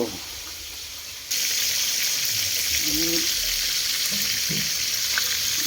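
Milkfish frying in a pan, a steady bright sizzle that jumps suddenly louder after a second and then holds, with faint clatter and a few low sounds underneath.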